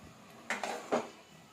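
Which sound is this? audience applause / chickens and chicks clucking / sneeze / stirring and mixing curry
stirring and mixing curry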